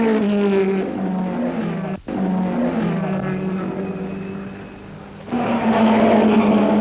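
Porsche 917 race cars at the 1970 Brands Hatch 1000km in heavy rain roar past in a sustained, loud engine drone, with a sharp dip near two seconds and a louder car surging in toward the end.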